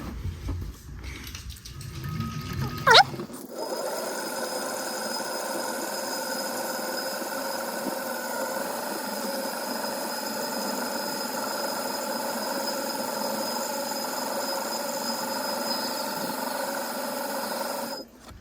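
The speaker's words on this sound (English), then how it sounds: "So now we're just going to spool it on." Fishing line winding onto a spinning reel from a spool, a steady whirring drone close by that runs evenly for several seconds after a brief handling knock, with no talking.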